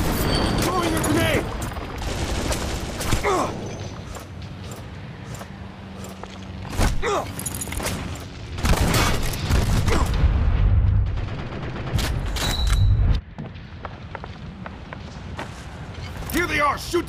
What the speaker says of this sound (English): A grenade! Throwing a grenade!